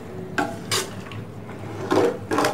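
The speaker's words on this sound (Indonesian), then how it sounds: "Kita aduk dulu sebentar." A utensil scrapes and knocks inside a pot of peanuts and water in a few separate strokes, with a soft sizzle and clatter between them.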